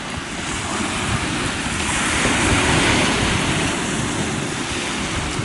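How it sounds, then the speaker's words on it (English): Ocean surf washing onto the shore in blowing wind, a continuous broad roar that swells slightly in the middle, with no voices. "the attitude of the ocean lapping on the shore, the texture of the sea because the wind is blowing in a certain way"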